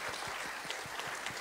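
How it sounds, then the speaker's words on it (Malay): A seminar audience at a university arts and culture forum gives brief, faint, steady applause heard from a distance. "Kita berikan tepukan juga."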